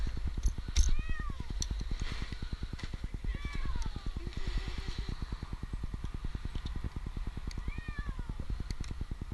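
A cat stuck up in a tree meows several times, with a few clear repeated cries spread through the clip over a steady low rumbling background.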